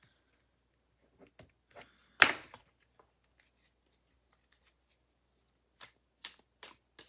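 Tarot cards shuffled for a reading: a burst of riffling around the middle, then several short, crisp card flicks and snaps near the end, close and otherwise quiet.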